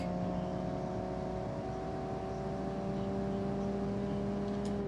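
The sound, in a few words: car engine fast shifting in video game BeamNG.Drive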